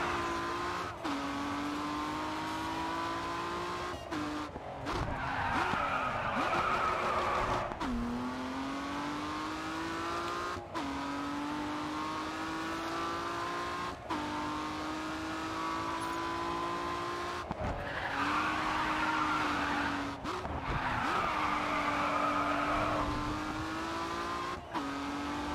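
A BMW 1 Series M Coupe laps the Algarve National Circuit, its engine droning steadily from inside the car and rising and falling through repeated gear shifts, with brief tyre squeals in the corners.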